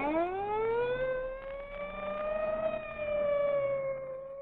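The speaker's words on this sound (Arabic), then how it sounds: "ده بوليس، ده بوليس." A wailing siren of a police car arrives outside a theatre entrance, rising and holding a steady, loud, slightly undulating tone throughout, with no talk over it.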